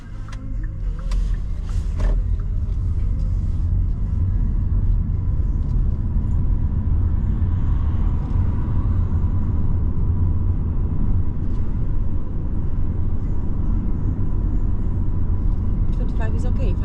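A car pulls away during a driving lesson, its engine and road rumble a steady, close, low drone throughout, with faint voices in the cabin.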